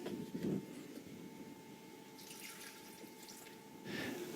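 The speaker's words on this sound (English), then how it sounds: "Place the ground leaves into a wide pot and add just enough water to cover them." Water is added to a wide pot of ground wild leaves, heard as soft trickling and dripping with quiet splashes at the start and near the end, faint and close with no talk.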